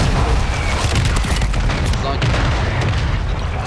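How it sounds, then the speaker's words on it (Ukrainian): Loud, dense airstrike explosions in Warzone 2 pound and rumble continuously with heavy low booms and crackling debris, while players shout over the barrage. "Авіаудар, блядь, авіаудар, авіаудар."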